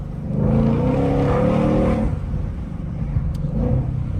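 A Shelby GT500 accelerating on a Chicago street, its engine note rising and swelling loudly up close, easing briefly, then building again near the end, with no voices.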